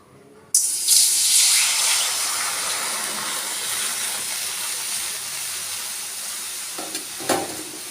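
Water poured into a hot kadai while preparing kanti pitha, bursting into a loud sharp hiss and sizzle that eases into steady steaming, with a couple of brief stirring or scraping sounds near the end.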